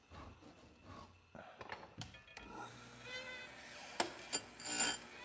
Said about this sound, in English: Got some chain sharpening going on, folks.